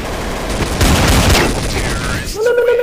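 Dense clatter of gunfire in Counter-Strike: Source, a noisy overlapping barrage of shots with a voice calling out beneath it and a tonal game sound at the end.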